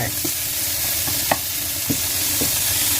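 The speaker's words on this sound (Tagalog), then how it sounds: "Just enough oil or butter to saute our onion." Onion sautés in a little oil or butter for an omelette, a dense continuous sizzle close by, broken by a few light clicks and scrapes from stirring.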